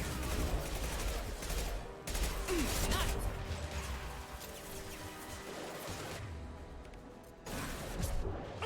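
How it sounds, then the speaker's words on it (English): Impact shot gunfire in the Mass Effect Legendary Edition video game, a dense mix of loud shots and crashing combat noise that keeps going throughout, with a brief whooshing sweep near the start. "Firing an impact shot"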